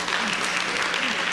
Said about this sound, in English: At least I should get a clap.